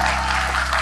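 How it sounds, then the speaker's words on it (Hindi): Loud, dense applause from a live audience at a YOUTAG seminar event, a steady wash of clapping filling the whole short moment without pause. "जोरदार ताली"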